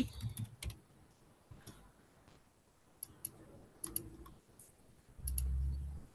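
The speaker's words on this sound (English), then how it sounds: "I'm just going to click. Type something funny." Mouse clicks and a few keyboard keystrokes at a computer while text is entered in Inkscape, sparse sharp ticks spread over a quiet background, close and fairly soft, no talk.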